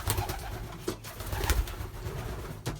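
Belgian racing pigeons coo softly in a loft, low murmuring calls overlapping from several birds nearby, with rustles and a few brief sharp noises between them.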